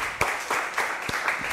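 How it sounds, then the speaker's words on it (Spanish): Audience applause at an evening talk show, a short burst of clapping with a few distinct sharp claps at a moderate level. "Sí, es un aplauso fuerte."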